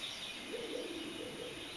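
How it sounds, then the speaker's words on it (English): Soft, distant bird calls and cooing at dawn, in Pennsylvania, drift over a steady outdoor hiss, faint and continuous through the short stretch. "It's an environments record of birds."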